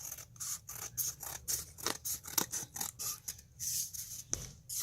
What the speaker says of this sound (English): you're going to cut this here